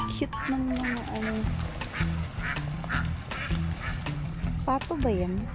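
Ducks quack in repeated close, loud honking bursts at Balay Arceo in Pulilan, Bulacan. People talk faintly in the background.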